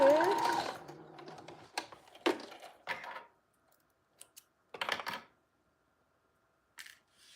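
A sewing machine makes a few short, quiet bursts of back stitching, with brief mechanical whirs and clicks separated by pauses, following a faint voice at the start.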